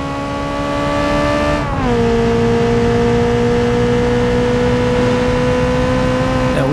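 Race car engine in the BeamNG.drive video game, a Covet remaster tuned for rally, holding a steady loud drone through a lap, with one brief pitch drop as it shifts before settling into a constant hum.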